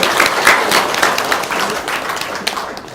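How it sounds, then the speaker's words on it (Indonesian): A studio audience clapping loudly and close by, dense brisk applause that stays steady and then gradually thins. "Ya, tepuk tangan dong."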